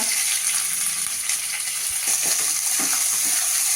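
Urad dal and vertically sliced onion sizzle in hot oil in a pan while being stirred for coriander pulao, a continuous bright frying hiss with occasional scraping and clinks.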